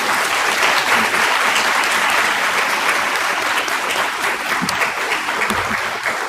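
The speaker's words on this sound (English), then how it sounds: "I want us to give them a round of applause." An audience at a live talk gives a sustained round of applause, dense and even clapping from many hands filling the room throughout.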